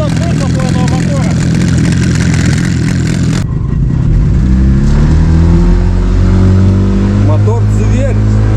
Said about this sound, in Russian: Вот так вот на холостом идет выхлоп у этого мотора.